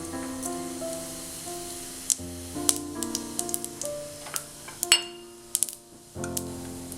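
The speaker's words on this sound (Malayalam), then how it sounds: "ഈ എണ്ണ ഒന്ന് ചൂടാകണം. ഇതിലേക്ക് ജീരകം ഇടാം." Cumin seeds dropped into hot oil in a pan, giving scattered sharp pops and crackles over a faint background hiss, with no talking.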